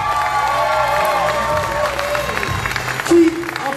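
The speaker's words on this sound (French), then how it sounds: "On les applaudit bien fort" A crowd at a kids' dance battle quarterfinal claps and cheers in a dense, continuous burst of applause and shouting, with a voice briefly audible in the mix.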